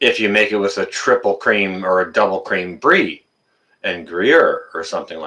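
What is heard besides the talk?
No everyday noises stand out.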